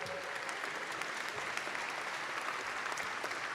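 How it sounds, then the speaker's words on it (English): An audience at a fall debut concert claps in steady, dense applause for a few seconds, fairly faint and even throughout, with no talk. "Give a hand."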